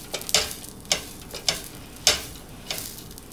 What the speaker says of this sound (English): That's sizzle. I usually press it down a little bit more once it's in a plancha.